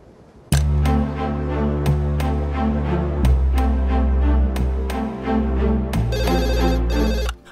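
A phone ringtone plays a repeating electronic melody, loud and close, with a brighter tonal pattern near the end before it cuts off.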